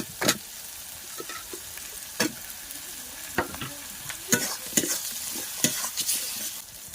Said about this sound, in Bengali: এই যে এরকম সুন্দরভাবে কিন্তু মশলাটা কষিয়ে নিলাম